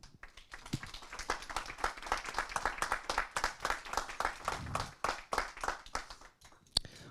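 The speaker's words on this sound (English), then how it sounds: "je pense qu'on peut les applaudir très très fort" An audience at an agile conference's closing keynote claps for the organisers. Individual claps come through distinctly in a lively, moderately sized burst that thins out toward the end, with one sharp final clap.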